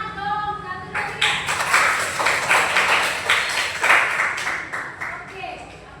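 A classroom group claps together for a presenting group, with dense, lively hand claps spreading across the room and voices talking over the applause.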